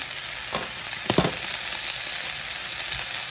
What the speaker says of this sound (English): the grease is starting to pop again